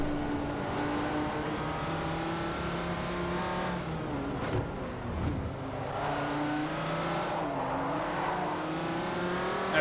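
Race car engines in Forza Motorsport 4 on the Nürburgring, with a Pagani Zonda R, a Mercedes touring car and an Audi R15 TDI, drone steadily and change pitch as they rev and shift, loud and continuous.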